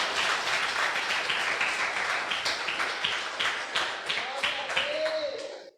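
A church congregation claps together in a steady rhythmic beat, fairly soft and roomy, before the clapping stops abruptly.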